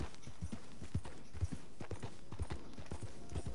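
A horse's hooves clip-clop at a steady walking rhythm in the Red Dead Redemption 2 video game, with evenly spaced, moderately loud thuds continuing throughout.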